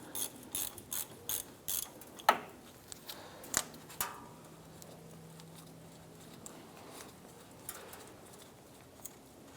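A 19 millimeter ratchet loosens the radiator drain on a 2005-2007 Ford Five Hundred, giving a quick close run of crisp clicks, then a few sparse, fainter ticks, with no talk.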